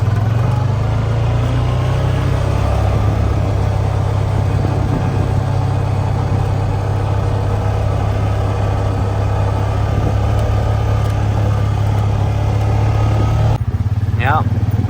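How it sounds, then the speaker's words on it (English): A tractor engine runs close by in a steady low, throbbing drone that holds throughout, with engine noise continuous under brief voices before the recording cuts near the end. "Clayton made it out with the tractor"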